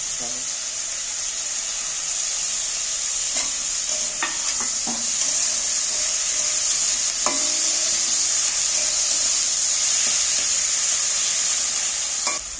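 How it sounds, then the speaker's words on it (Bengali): Onion, tomato and green chillies sizzle steadily in a frying pan, a constant bright hiss broken by repeated scraping and clinking as a spatula stirs them, close and alone without talk. "দেখো এইগুলোকে একটু নাড়াচাড়া করে ভেজে নিচ্ছি"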